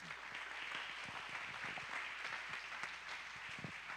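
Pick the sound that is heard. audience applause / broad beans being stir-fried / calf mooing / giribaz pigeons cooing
audience applause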